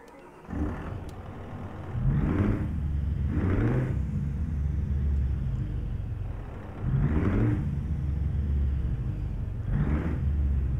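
A Scania R420 truck engine in Euro Truck Simulator 2 cranks and turns over, settling into a deep diesel idle with repeated rising revs and rumbling surges, close and loud with no talk.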